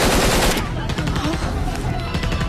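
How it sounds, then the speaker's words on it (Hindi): Bursts of loud automatic gunfire crack outside in rapid, dense volleys, close and sharp, with a voice faintly mixed into the din. "अरे बाहर गोलियों चली रही है"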